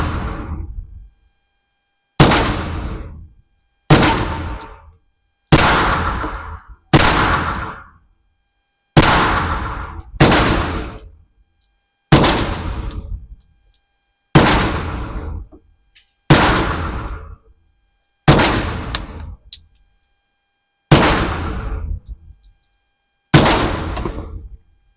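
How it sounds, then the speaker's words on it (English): A suppressed Scorpion VZ61 fires about a dozen single shots, each a sharp close crack with a short decaying tail, spaced roughly two seconds apart with silence between. "let's start shooting"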